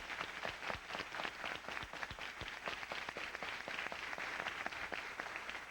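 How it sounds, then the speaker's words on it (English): Continuous applause from a crowd, soft and somewhat distant, with even, unbroken clapping throughout. "let's give her a round of applause for that."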